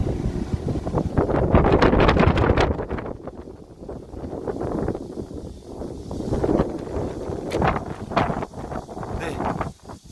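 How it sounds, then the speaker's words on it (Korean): Strong gusty wind in Jeju buffets the microphone outdoors by a home's garage, a loud rumbling roar that swells and eases in waves, with faint talk mixed in. "바람이 지금 엄청 부는데"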